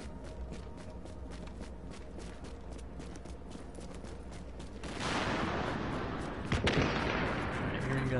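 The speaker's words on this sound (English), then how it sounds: "I'm hearing gunshots. That's a good sign." Scattered gunshots from the video game The Division, a series of sharp cracks over a constant low background, turning into a denser burst of fire later on, moderately loud with no talk.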